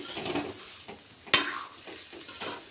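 Potato curry stirred in a pan with split green chillies added, close scraping strokes over a low simmering sizzle and one sharp clink of utensil on metal midway.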